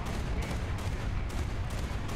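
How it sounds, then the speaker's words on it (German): The ZSU-37 anti-aircraft gun from War Thunder fires in dense, continuous bursts, forming a loud, rough roar of rapid shots with no talking. "Ich schieße von der Seite, ich schieße von vorne, teilweise auch von hinten."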